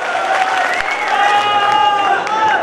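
Audience applause at a mushaira poetry gathering during a Basant Mahotsav festival in Kasganj, a steady dense wash of clapping from a crowd that holds evenly loud throughout.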